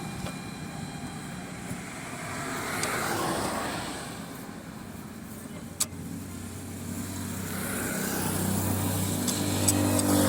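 A Hyundai Eon hatchback drives along with a worn rear wheel bearing, giving a steady droning road and engine rumble that swells and fades inside the cabin, with no talking.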